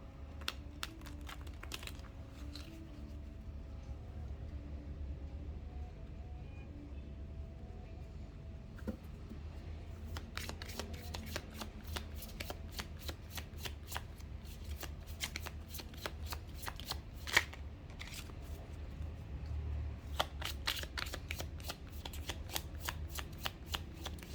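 Oracle cards being shuffled by hand at close range, a steady run of crisp riffling clicks and flutters that thickens in the second half, over a low constant background hum, with no talking.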